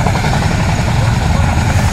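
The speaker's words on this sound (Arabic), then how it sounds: "ودي طيارة حربية، ودي أختها في السماء." Military aircraft flying overhead above 6th of October City, Egypt, a loud, steady engine roar filling the whole stretch with constant rumble and wind-like broadband noise.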